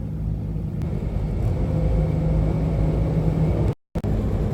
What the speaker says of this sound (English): It's too much traffic right now, guys. It's a rush hour traffic.